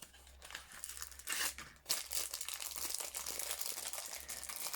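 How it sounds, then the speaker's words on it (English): Plastic packaging of Stampin' Up shaker domes crinkles and crumples close by, in irregular rustling bursts for several seconds over a low steady hum. "Oh, sorry about the crinkly noise."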